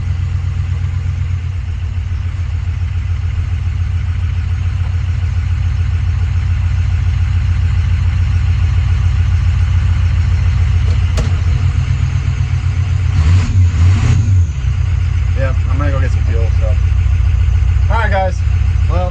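A 1979 Ford F250 truck engine idles rough and uneven, misfiring with a lumpy steady drone up close, while people talk over it and a few sharper noises break in near the end.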